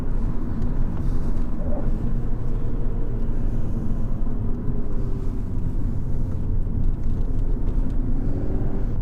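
A 2017 Abarth 595 Competizione drives along a B road, its engine and tyre rumble forming a steady, close, continuous drone heard from inside the cabin, with no talking.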